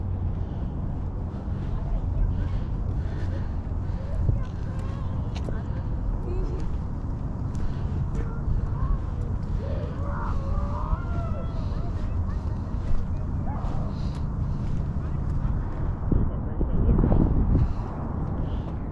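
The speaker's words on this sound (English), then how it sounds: "It's a little windy. I apologize if the audio is a little shot." Steady low buffeting wind rumbles against the microphone throughout at Gas Works Park in Seattle, with faint background noises and a stronger gust near the end.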